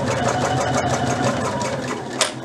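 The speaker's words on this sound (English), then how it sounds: "So I'm just going to stitch along." A sewing machine stitches a belt with a fast, even mechanical chatter of the needle, loud and close, running continuously with no talk.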